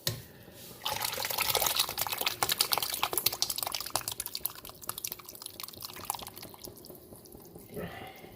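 Red guajillo chili salsa is poured into a pot of simmering pozole, giving a wet, splashing, gurgling pour with dense drips and glugs that fade toward the end, followed by a short clatter.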